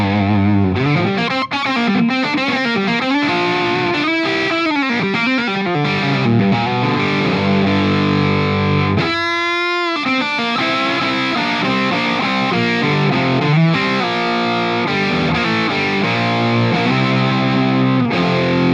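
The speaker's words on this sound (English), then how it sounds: "this 412 closed-back cabinet gives the sound of a tight low end with a lot of punch and" Electric guitar through a simulated 412 closed-back cabinet loaded with Alnico speakers plays loud, distorted riffs and bending lead lines, with a brief pause before the riffing resumes.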